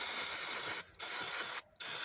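Brake cleaner hisses from a spray can onto engine parts near the ignition sockets while a throttle body is cleaned in place. The loud, continuous spray breaks off twice briefly before resuming.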